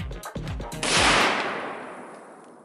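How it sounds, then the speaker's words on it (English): Prototype AK-50 rifle fires a single loud, sharp shot outdoors after some handling clatter, the report trailing off in a long decaying echo. "Let's shoot this motherfucker."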